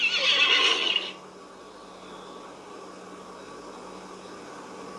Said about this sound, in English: then jumped on her horse.